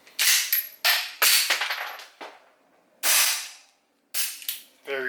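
Several loud, sharp reports from a suppressed Beretta 92FS pistol, spaced irregularly with short gaps of silence between them, the action failing to cycle.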